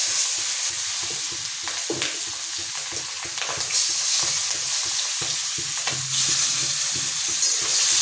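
Onions sizzling in a pan with a pinch of turmeric, a steady broadband frying hiss with scraping stirs breaking through, close and fairly loud throughout with no talk.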